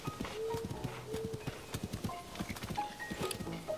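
Horse hooves clip-clop in a steady, quick rhythm in Zelda: Tears of the Kingdom, close and fairly loud, with faint game music tones drifting over the gallop.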